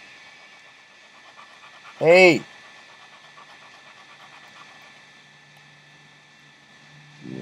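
A dog pants heavily in soft, rapid, steady breaths close to the microphone, continuing throughout under a man's brief spoken word.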